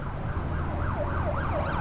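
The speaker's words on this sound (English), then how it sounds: "an ambulance" An ambulance siren wails in a steady rising and falling cycle, moderately close, carried over a low traffic rumble with no talking.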